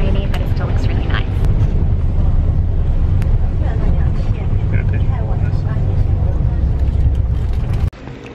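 Inside a bus in Okinawa on a rainy day, a continuous low engine rumble and road noise fill the cabin with occasional knocks and rattles, ending in a sudden clunk and drop.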